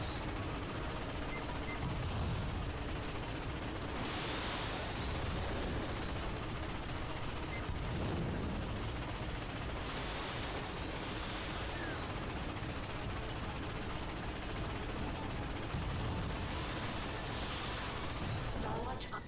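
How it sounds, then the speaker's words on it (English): Dense, continuous barrage of explosions and weapon fire during an incoming missile attack in Ratchet & Clank (2016), loud rumbling blasts layered under game music and people talking. "Incoming missile detected."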